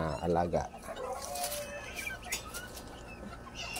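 Bantam chickens cluck and chatter at feeding time, with ducks also being fed nearby, a busy, moderately loud flock sound that runs throughout, partly under a person speaking at the start.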